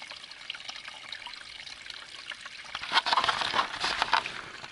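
Water from a flushed toilet rushes and trickles through a septic drain pipe, starting as a faint dribble and swelling into a louder gurgling flow near the end, with no talk.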